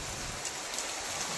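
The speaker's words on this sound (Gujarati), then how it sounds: "અને વરસાદ ચાલુ થઈ ગયો હારામાં હારો." Steady rain falls throughout, a dense, even hiss with no voices over it.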